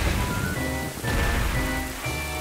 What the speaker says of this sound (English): Oh, it's raining right now, actually.